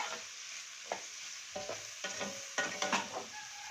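Green peppers sauté in a pan with a continuous oily sizzle, while a utensil knocks and scrapes against the pan in several distinct strokes, close and clear with no talk.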